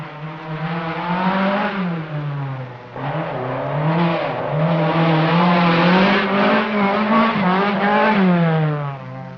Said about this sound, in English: The three Mercedes saloons came into their own on this rough section.